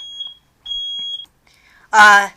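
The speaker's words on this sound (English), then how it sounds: "That was our smoke detector. It just went off and it was really loud" A smoke detector gives two high, piercing beeps, the second one longer, followed by a burst of loud voice.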